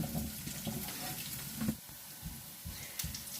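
Mushrooms being quickly rinsed under a running kitchen tap, a steady close wash of water with a faint sizzle of onions frying in oil in the background.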